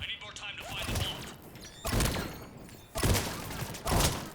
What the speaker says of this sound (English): the shotgun's so much fun